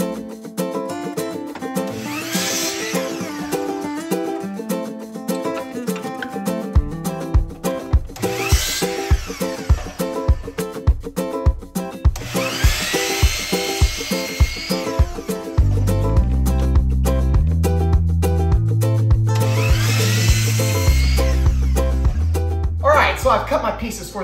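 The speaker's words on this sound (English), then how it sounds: "let's head over to my miter saw and cut everything down." A miter saw cutting wooden boards, its motor spinning up and biting through wood in four separate cuts separated by pauses, heard under steady rhythmic background music with no speech.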